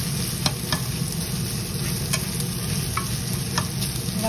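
Leftover rice is stir-fried in a pan for fried rice, giving a continuous close sizzle with scraping stir strokes and light ticks, and no talk.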